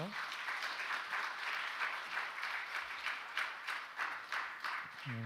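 A church congregation at a special evening worship service applauds to give glory to God after prayer, a soft, sustained patter of many hands clapping, fairly distant and even.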